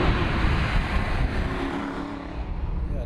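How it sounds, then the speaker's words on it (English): Aston Martin V8 Vantage, a 15-plus-year-old supercar, with its V8 engine droning loudly and steadily from inside the car as the driver heel-and-toes down to second gear under braking. "Heel and toe in down to second gear."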